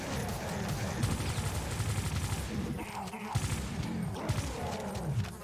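Rapid, continuous gunfire from monsters in a custom Doom level set in a school, dense bursts layered with crashes and impacts, loud and close throughout.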